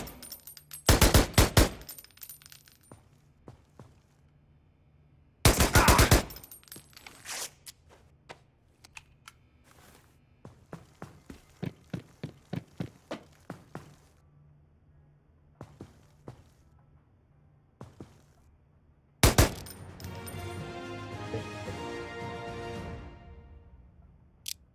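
Gunfire in a first-person shooter, with short bursts of automatic fire separated by quiet gaps and scattered single shots and mechanical clicks, ending in a longer louder burst that tails off.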